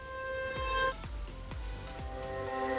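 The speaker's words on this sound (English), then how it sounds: "I've also reversed the mandolin, as you can see here a couple of times" A reversed mandolin sample in a Logic Pro X dance track, with sustained plucked tones swelling backward over a few repeated deep, thudding low hits.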